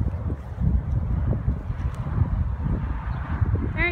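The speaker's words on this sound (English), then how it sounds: "It's very windy, I don't know if you can hear me." Strong outdoor wind buffets the microphone in a steady low rumble, loud and continuous throughout, with a brief bird-like chirp near the end.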